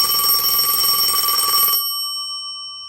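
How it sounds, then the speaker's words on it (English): A telephone bell rings loudly and close for under two seconds, a harsh continuous metallic trill that cuts off abruptly, leaving a fading electronic hum. "The phone rang."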